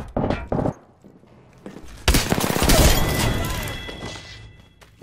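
Weapons fire in the battle royale game Apex Legends: a few short sharp shots, a brief lull, then a dense barrage of rapid gunfire and impacts building loud and close before easing off.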